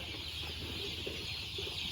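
Three-breed chickens cluck softly inside a farm coop, a few scattered low clucks under a steady hiss of background noise, with no voices.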